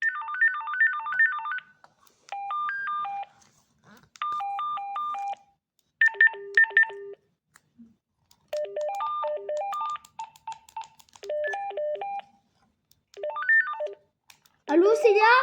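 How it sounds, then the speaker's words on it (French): A series of short synthetic ringtone melodies from an AWANFI rechargeable walkie-talkie, each a few seconds of beeping electronic tones separated by brief pauses, played close and clear as the different tones are stepped through one after another. "on peut régler les différentes sonneries"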